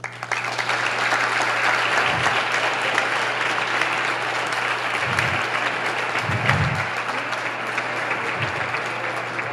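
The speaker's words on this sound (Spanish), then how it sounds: "para quien pido un aplauso" An audience gives sustained, dense applause welcoming the guest Sebastián at an evening talk at the Museo Federico Silva, steady and even with a low hum beneath it.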